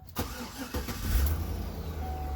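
A 2008 Chevrolet Suburban engine is started with the key: a brief crank catches into a loud, close rumble that settles into a steady idle.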